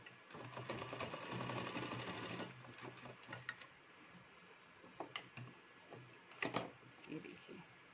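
A sewing machine stitches palazzo pants in a rapid mechanical run for about two seconds, then stops and starts, followed by scattered ticks and clicks from handling the fabric and machine, all fairly faint.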